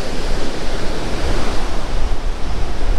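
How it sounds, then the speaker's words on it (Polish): Surf and wind on an empty beach in Chałupy in mid-July, a loud continuous roar of waves and gusts hitting the microphone, with no talk. "To jest ta słynna plaża w Chałupach."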